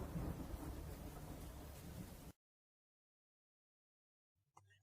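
Thunder rumbles during a rainstorm, a deep sustained roar under steady rain hiss that cuts off abruptly halfway, followed by near silence and a faint brief sound at the end.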